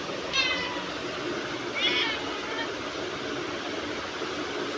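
A cat wanders into a home, likely wet from outside, and meows twice in clear, drawn-out calls over a low steady background hum, with no voices alongside.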